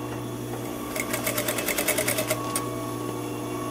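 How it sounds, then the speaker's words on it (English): A tailor's sewing machine stitches fabric toward a pin, a rapid run of loud mechanical stitching clatter that starts, speeds along for about a second and a half, then stops, close up over a steady motor hum. "And sewing along, trying to meet that pin."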